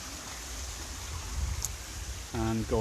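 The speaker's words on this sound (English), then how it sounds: "So there's one of the waterfalls down at Smithy Brook there. You can probably hear it." Steady hiss of a waterfall and stream at Smithy Brook, heard as constant broadband rushing water, with a brief voiced sound near the end.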